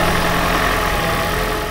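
A car engine, cold at first, idles with a loud, steady, close rumble during a head gasket test.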